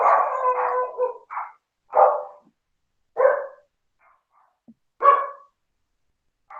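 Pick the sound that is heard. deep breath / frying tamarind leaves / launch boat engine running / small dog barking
small dog barking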